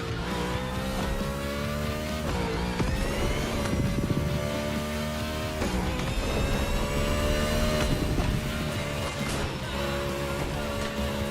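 Race car engine in The Crew Motorfest during a NASCAR-style race, a loud continuous roar with rising and falling revs and gear shifts, tire squeal mixed in, sustained throughout with no talk.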